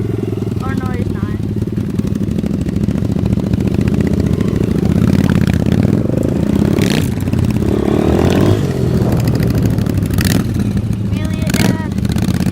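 Motorcycle riding on a dirt trail, the engine droning steadily at mid pitch with occasional revs, close and loud throughout, while people talk excitedly over it.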